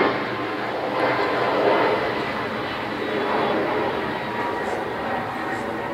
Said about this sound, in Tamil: செகண்ட் ஃப்ளைட்டு கிராஸ் ஆகுது இருந்தாலும் இந்த சவுண்ட்லாம் கேட்போம்